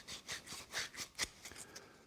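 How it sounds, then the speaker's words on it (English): Sandpaper rubs against a spinning wooden pepper mill blank on a lathe, a soft, quiet rhythmic scratching in repeated strokes, close and alone. "Bit of sanding paper"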